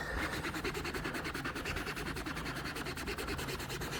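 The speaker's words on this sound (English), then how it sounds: "I'm going to use a bit with the Scotch-Brite on it" A Scotch-Brite pad rubs lightly over an Aircat 335 air tool part during clean-up, giving a steady, continuous close scrubbing hiss with a faint rhythmic texture, no talk.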